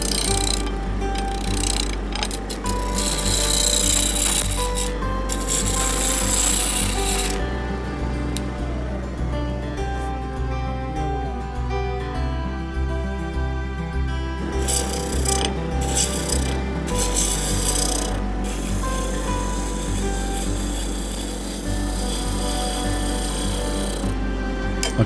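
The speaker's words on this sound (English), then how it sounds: "I can use the roughing gouge to do most of the shaping" A roughing gouge shapes a wood blank on a lathe turning at low speed, giving a steady, loud rasping scrape over a constant motor hum that runs unbroken throughout.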